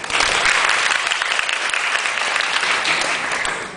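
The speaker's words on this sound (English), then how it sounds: "So let's give us a great applause to our speaker today, Dr. Steve Wallace." A short burst of loud, dense audience applause welcoming a speaker at an academic lecture in Taipei, even and continuous before tapering off at the end.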